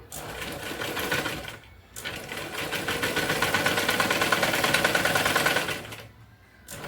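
A sewing machine stitches the back neck of a blouse, its rapid mechanical chatter running in two sustained bursts separated by short pauses, close and steady.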